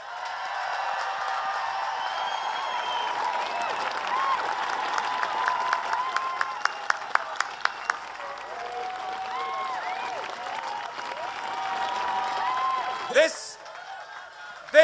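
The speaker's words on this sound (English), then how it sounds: "So please give one massive cheer for our really," A large crowd at a Dublin award ceremony cheers and applauds for a guest, a long swelling roar of clapping with whoops and some sharp individual claps, then it fades and voices come through near the end.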